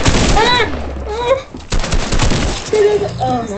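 Rapid bursts of gunfire ring out in a Fortnite match, loud and close under excited talking voices.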